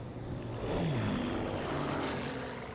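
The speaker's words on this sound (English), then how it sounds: "And those airplanes flying overhead were always there from the very" Propeller airplanes flying overhead in the Call of Duty 2 mission "The End of the Beginning", a steady droning engine roar with slowly sliding pitch as the aircraft pass, alone without talk.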